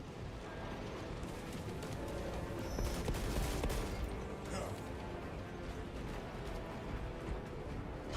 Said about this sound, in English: The Titan launches its missiles.